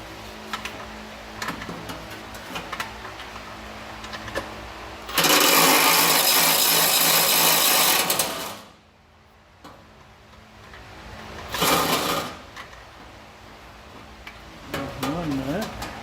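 A small cordless impact wrench rattles nuts off a 3.5 EcoBoost engine in a 2WD Ford F-150, with two loud close bursts of hammering a few seconds apart amid quieter shop noise and handling sounds.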